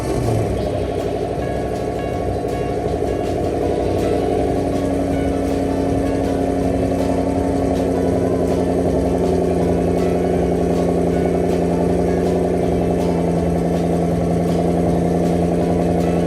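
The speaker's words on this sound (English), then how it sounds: "Car's running, ready to go home." A Ford Mustang engine idles steadily, a loud, continuous low hum with faint regular ticking over it.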